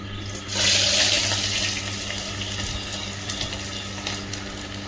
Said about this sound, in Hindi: ये हमारे ओवरनाइट सोक किए हुए चने हैं, इसे हम अब धो कर लेंगे।